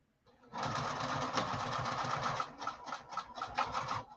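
A sewing machine chain-stitches fabric lining in a fast rattling run of needle strokes, steady at first and then breaking into short bursts as the stitching slows toward the end, close and fairly clear.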